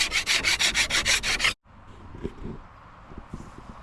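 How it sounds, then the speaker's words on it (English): Rapid back-and-forth scraping strokes strip loose old paint from a canoe hull, about nine even rhythmic strokes close up, then a pause followed by softer scattered taps and scrapes. "Just getting some loose paint off. Just getting ready for the primer."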